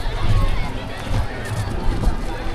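Dense crowd at a Jyotirlinga temple in India, a steady close hubbub of many voices and shuffling movement with no single speaker standing out, fairly loud throughout.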